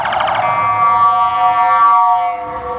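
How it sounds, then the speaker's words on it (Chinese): A police car siren wails loudly and close on a street in Santiago, Chile, its tone sweeping continuously as the car passes, then fading slightly toward the end. "我发现智利的其中一个特色就是警车不断哎，刚过去一辆，现在又来一辆。"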